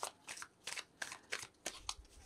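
Fairy oracle cards are shuffled by hand in a quiet room, a run of six or seven quick papery riffles and slides, close and soft, with no talking.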